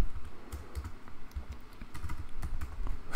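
Rapid clicking keystrokes on a computer keyboard while entering a router address, close and distinct, in quick irregular bursts with brief pauses.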